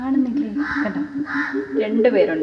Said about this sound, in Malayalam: രാവിലെ കാക്കയും കുപ്പനും ഒക്കെ കൂടി കലപില കലപില കലപില ശബ്ദമാണ് കേട്ടോ